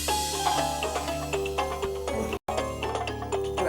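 A mobile phone ringtone plays a steady melodic electronic tune with repeating chime-like notes, loud and close, briefly cut silent before resuming.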